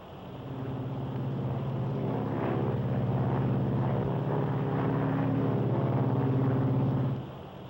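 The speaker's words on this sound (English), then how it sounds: "It's a wonderful airplane," Inside the cabin of a Silver Falcon propeller airliner in flight, a steady loud droning engine hum with a low pulsing propeller beat fills the space continuously, then drops off slightly at the end.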